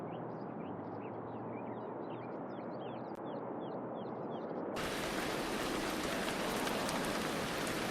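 Steady rain in the fantasy game Everlight, a soft hiss with faint birdsong at first, then jumping abruptly to a louder, denser downpour for the remainder.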